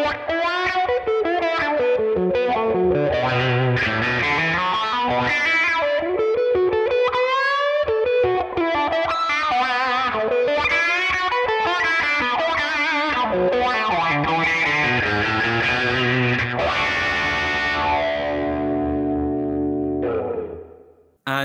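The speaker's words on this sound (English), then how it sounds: "the wah pedal included has an auto wah feature, so let's take a listen to that" Electric guitar through the auto wah of the Neural DSP Tone King Imperial MKII amp plugin, playing a continuous sweeping, effected phrase with a shifting filtered tone, ending on a sustained note that fades out.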